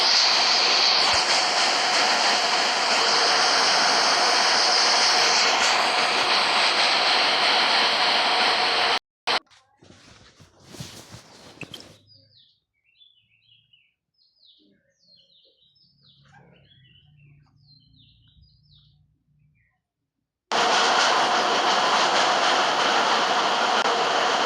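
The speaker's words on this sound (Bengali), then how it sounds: "দেখতে পাচ্ছি যাচ্ছে ট্রেন।" Train rushing past in the mobile game Indian Bike Driving 3D, a loud, steady broadband roar for about nine seconds that cuts off abruptly, leaving quieter scattered game sounds, then returns just as loud near the end.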